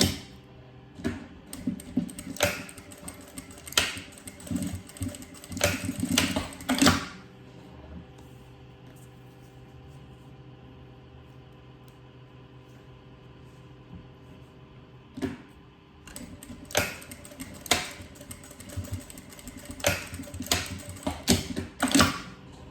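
A sewing machine stitches a seam on a fabric strap for a double pencil case. Two spells of rhythmic mechanical clatter sound close, with a long quiet gap between them.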